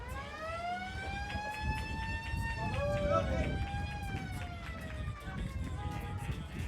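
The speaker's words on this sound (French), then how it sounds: "Et on aimerait encore entendre un peu la sirène." Fire truck siren wailing as it arrives at a school prom, its rising and falling tone sustained over a noisy crowd with cheering and an announcer talking.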